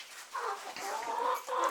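Homestead chickens cluck softly nearby in a run of short, throaty calls with brief pauses between them, and no one speaks.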